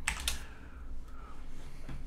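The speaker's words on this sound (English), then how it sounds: "So I'm typing in Stack Overflow in the bar." Computer keyboard typing in a burst of a few quick key clicks at the start, close and crisp, then faint room noise with an occasional soft tap and no talking.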